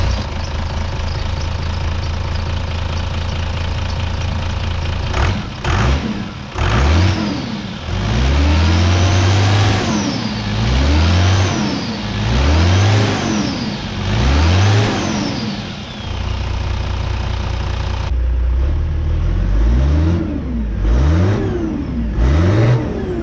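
A car engine cranks and catches about five seconds in, then gets blipped through a run of sharp rising-and-falling revs before settling back toward idle with a few more throttle stabs, loud and close with no talking.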